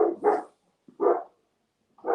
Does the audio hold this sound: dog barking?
yes